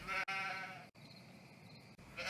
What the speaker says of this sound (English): Some of the sheep were bleating.